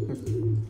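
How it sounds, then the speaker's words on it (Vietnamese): Pigeons coo at a pigeon breeding farm, a low soft throaty call heard close and alone in a brief burst. "những cặp chim bồ câu bố mẹ nhìn rất thích"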